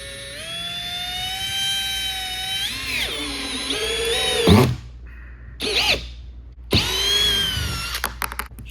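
A cordless drill whines steadily while driving a screw into wood, pitch dropping as it bogs under load, then a few short trigger bursts and a rattling finish, close up.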